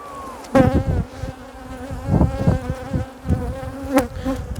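Honey bees buzz loudly and continuously close by during a beehive inspection, with an agitated drone rising and falling and occasional handling knocks.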